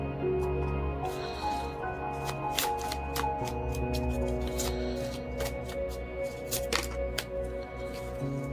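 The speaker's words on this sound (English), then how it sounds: "next we're going to draw some oracle cards" Oracle cards are shuffled close up, a run of quick papery riffles and sharp flicks repeating in bursts against a faint, steady background hum.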